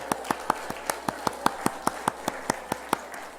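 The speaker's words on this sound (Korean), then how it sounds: "축하한다고 박수 한번 주세요" Steady single handclaps from a church congregation during a Sunday service, about fifteen evenly spaced sharp claps in a quick rhythm, moderately distant in a reverberant hall with a faint low hum beneath.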